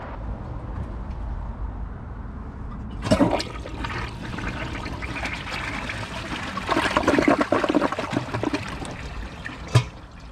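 A Kohler Class 5 toilet flushes with a sudden rush of water, then a sustained swirling gush and gurgle that swells again midway before a final splash and trickle, close and loud.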